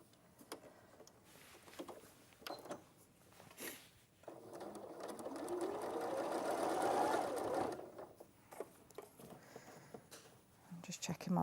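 A sewing machine stitches a quilt block in a short, fairly quiet run of rapid whirring, with soft handling sounds and talk around it.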